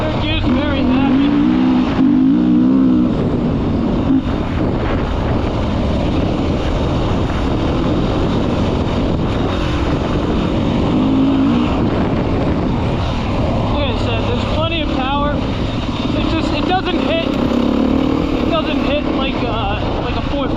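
Beta 390 RS dirt bike engine pulling steadily in third gear, a loud continuous drone with small pitch swells and constant wind buffeting, a rider's voice talking over it at times.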